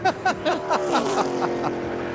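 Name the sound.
NASCAR race car driving on track, Denny Hamlin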